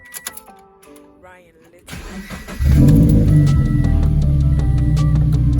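A Scion FR-S engine cranks and fires after a throwout bearing replacement, then settles into a loud, close, steady idle; people talk briefly before it starts.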